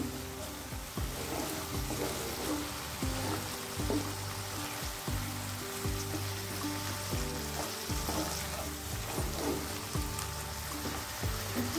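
A tomato mixture for a rice dish sautés in a pan over medium heat, a steady close sizzle broken by repeated scraping stirs at a loose, regular rhythm, with no talk.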